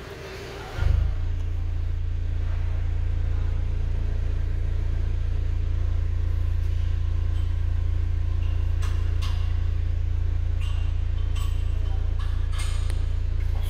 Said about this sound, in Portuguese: vou engatar ré. E aí vocês percebam a vibração e o ruído que fica neste carro